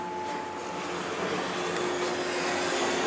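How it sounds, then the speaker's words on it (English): Steady motor whine and rushing hum from the submersible pump motor of a Montgomery hydraulic elevator at Dillard's, Franklin Park Mall, Toledo, continuous and moderately loud with no pauses. "This has a basic submersible motor."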